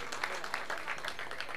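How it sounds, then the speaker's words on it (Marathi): A crowd applauds a rubber-ball cricket player at a local match in Karad taluka, a brief, faint, distant burst of clapping. "एकदा जोरदार टाळ्या होऊन जाऊ द्या निलेश वीरसाठी"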